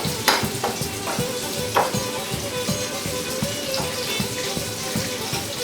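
Breaded tomatoes fry in a hot pan with a steady, crackling sizzle and scattered pops, close and continuous throughout with no talk.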